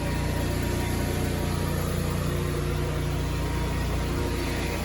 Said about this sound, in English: We've had the generator running now for a couple, 3 hours